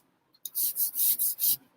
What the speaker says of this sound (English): I'm going to take the sandpaper to this